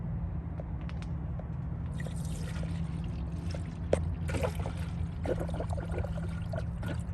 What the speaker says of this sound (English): I'm just gonna pour all this coolant back into the system.